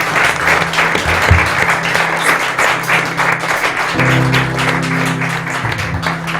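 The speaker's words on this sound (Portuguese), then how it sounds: "Vamos dar uma salva de palmas a Jesus." A church congregation bursts into sustained applause during a worship service, bright and busy clapping over low, held musical tones that shift partway through.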